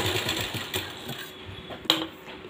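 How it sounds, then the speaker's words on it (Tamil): Sewing machine stitching a grandmother-style blouse, a steady close mechanical whirr of rapid needle strokes with a sharp click near the end. "இது இப்படியே பரிமாண தையல் போட்டுக்கோங்க."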